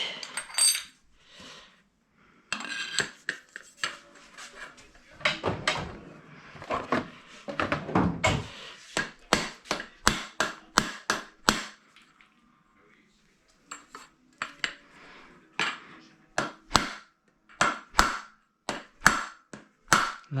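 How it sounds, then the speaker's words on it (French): A crown race is tapped down onto the steerer of a Commencal Meta mountain bike fork, with sharp metallic knocks in quick bursts separated by short pauses, close and clear. "c'est le bruit d'un cône de fourche qui est à fond."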